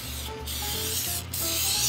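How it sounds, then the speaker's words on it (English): Cooking spray hissing onto parchment paper lining a cake pan for a New York style cheesecake, two close bursts of steady aerosol spray, loud and continuous with no talking. "Okay, so I spray the paper."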